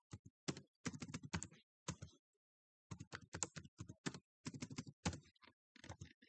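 Keys clatter on a computer keyboard as a PAN number is entered, in quick bursts of close, crisp keystrokes separated by short pauses.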